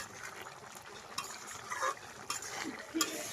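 A curry of eggplant and small river shrimp simmers and gets stirred in a pan, soft scraping and faint sizzle with a few brief utensil knocks, low and close.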